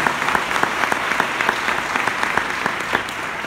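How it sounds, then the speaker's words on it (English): Sustained applause from an audience at a 2018 convocation, a dense steady patter of many hands clapping together, fairly loud and even throughout. "give yourselves a huge round of applause"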